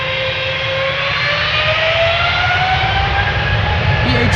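A KLM Boeing 777-300 jet takes off from Schiphol's Polderbaan runway, a loud, close, steady engine roar with slowly rising whining tones running continuously through the clip.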